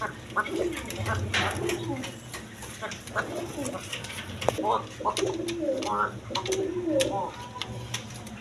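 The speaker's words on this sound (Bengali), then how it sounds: "এক পেয়ার বোম্বাই কবুতর আছে দেখেন বোম্বাই" A pair of Bombay pigeons coo repeatedly in soft, rolling bursts, fairly close, with a steady murmur of background noise.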